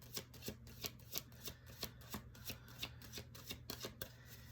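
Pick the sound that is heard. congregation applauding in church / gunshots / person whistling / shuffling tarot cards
shuffling tarot cards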